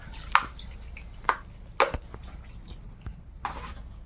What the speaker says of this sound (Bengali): কুমড়ো পাতাগুলোর মধ্যে একটু জল দেবো ভালো করে ধুয়ে নিতে হবে